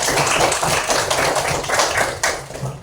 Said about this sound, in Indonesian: Beri tepuk tangan untuk diri kalian masing-masing